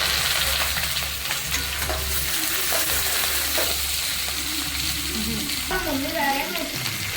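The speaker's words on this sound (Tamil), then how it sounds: "வெங்காயம் எல்லாம் போட்டு நல்லா மிக்ஸ் பண்ணி போட்டு நல்லா வதக்கி விட்டுக்கலாம்" Onions, green chilies, dried red chilies, chana dal and curry leaves fry in a pan for wheat rava upma, a steady close sizzle with scraping stirs throughout and no talking.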